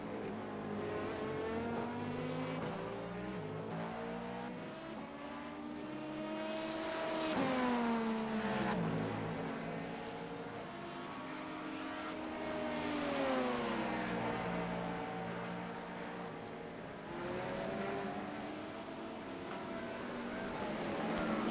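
LMP2 prototype race cars in the iRacing sim lap an IMSA circuit, engines droning and rising in pitch through repeated gear changes as they accelerate down the straight, with overlapping car engines audible.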